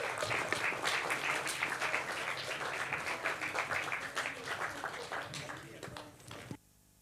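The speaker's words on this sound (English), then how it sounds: "One more round of applause." An audience at a film Q&A about wheelchair dance gives loud, sustained applause with crowd voices mixed in. It fades slightly before stopping abruptly near the end.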